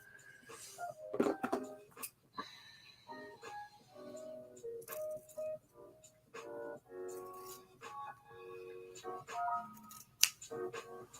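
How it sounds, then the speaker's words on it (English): Scissors trimming the edge of a stitching project: a series of crisp snips and small clicks, fairly close but soft, scattered across the clip, with a voice talking faintly in places. "I was thinking that there was a fourth edge that I had to trim off."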